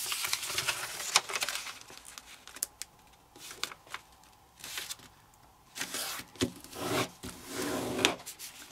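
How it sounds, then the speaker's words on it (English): Paper being folded into an origami Jurassic Park jeep, with close, soft rustling, rubbing and creasing in irregular bursts and pauses, no talk. "Unfold and fold to the crease."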